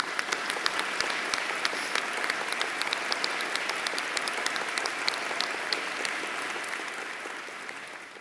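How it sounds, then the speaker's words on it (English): An audience claps steadily for a performer on stage. The applause is dense and sustained, then thins slightly and fades toward the end. "So let's give her another round of applause"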